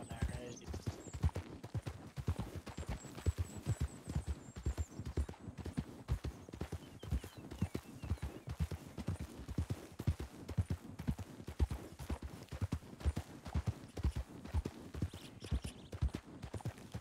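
Horse hooves clip-clop steadily through a long ride in a Western ranch role-play video game, a continuous even rhythm close by with occasional faint background tones and some voice.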